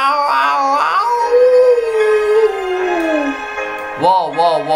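A poodle's howl, probably voiced by a person imitating the dog: loud, drawn-out rising and falling wails, one long sliding howl in the middle and shorter yelping howls at the start and end.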